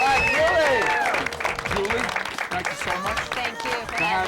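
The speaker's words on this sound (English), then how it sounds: "Can we have a round of applause for Julie?" A studio audience on a midnight talk show claps and cheers for the show's co-host, a steady broadband wash of applause with overlapping voices and shouts throughout, never fading.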